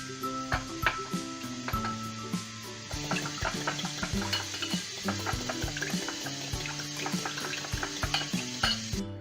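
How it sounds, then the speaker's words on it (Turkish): A spoon stirs squeezed lemon juice into lightly beaten egg yolk for a chicken vermicelli soup liaison, giving a quick, continuous patter of small clinks and wet swishes close by. "Limonumuzu da sıkacakla veya elinizle sıkıp karıştırıyoruz"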